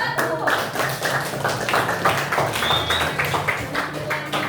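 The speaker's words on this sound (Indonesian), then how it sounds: "tepuk tangan buat kelompok 1" Audience clapping for a student group after a classroom drama performance: a steady, dense patter of hand claps that runs the whole time at fairly close range, with a voice murmuring faintly underneath.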